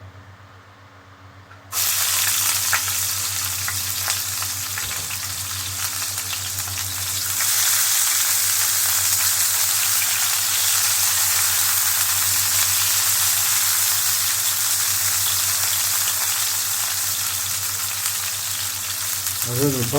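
Peppers drop into hot oil for a seafood and saffron rice dish and burst into a steady, loud, close sizzle that continues unbroken, swelling slightly in intensity partway through.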